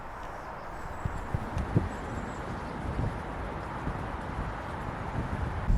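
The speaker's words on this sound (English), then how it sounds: "it's extremely windy today" Gusty wind buffets a camera microphone outdoors on an extremely windy day, producing a low, rumbling roar with occasional thumps and swells, steady throughout and no speech.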